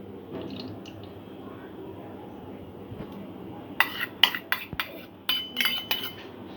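Cake ingredients for a mango tea cake are mixed with butter in a bowl, with a low murmur at first, then a run of quick metallic clinks and taps of a utensil against the bowl.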